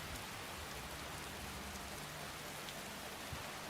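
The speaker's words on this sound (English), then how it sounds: "Rain is loud." Steady rain falling in a video game role-play setting, a dense, even hiss with scattered drop patter throughout, loud and continuous with no voices over it.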